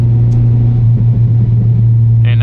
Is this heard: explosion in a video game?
no